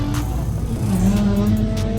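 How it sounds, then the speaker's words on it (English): At a car show, a Ford Mustang revs in the background, a deep engine rumble swelling and rising over crowd noise and other vehicles, loud but not right up close. "I hear that Mustang in the background"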